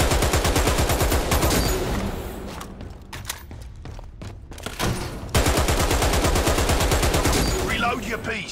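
Rapid automatic gunfire from the Dirty Bomb video game tutorial, shooting at training dummies in dense, loud continuous bursts that pause briefly for a few scattered shots and then resume at full rate.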